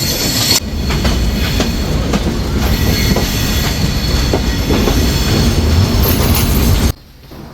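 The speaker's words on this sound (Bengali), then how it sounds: "আমাদের ট্রেনটি এখন বঙ্গবন্ধু সেতুর উপরে প্রবেশ করছে" Silk City Express train crossing the Bangabandhu Bridge over the Jamuna, a loud steady rumble of wheels on rails with rhythmic clatter and faint squeal throughout, dropping away abruptly near the end.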